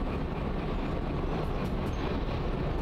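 A locomotive in the game Derail Valley brakes with its train brake, a steady dense rumble and rolling roar with faint higher hissing, continuous and fairly loud.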